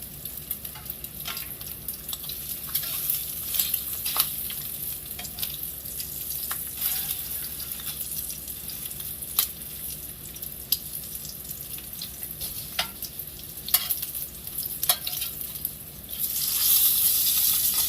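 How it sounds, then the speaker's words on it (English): Bacon crackles and spits in a hot pan, a continuous close sizzle dotted with sharp pops, swelling louder near the end, with no one talking. "Finish cooking up my bacon."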